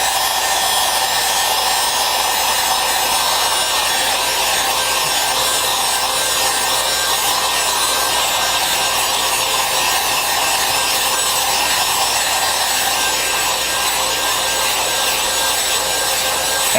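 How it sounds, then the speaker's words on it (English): A heat gun heating vinyl for an aquarium background blows a constant loud, hissing whoosh, steady and unbroken from start to finish with no voices. "we'll go ahead and grab the heat gun. And just kind of heat it up and work out what we see."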